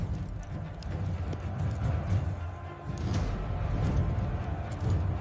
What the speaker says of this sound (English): And so they too waited, their horses growing restless.